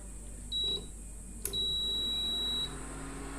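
A faulty Cello induction cooktop that powers on but does not heat gives off high electronic beeps, a short tone followed by a longer steady beep after a brief click, fairly clear over a low background hum.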